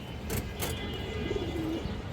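Pigeons from an old battle line give a soft, low coo that rises faintly over a steady background hum in a short, close-up stretch without talking.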